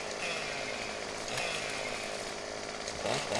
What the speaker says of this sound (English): I'm gonna hop up here with the chainsaw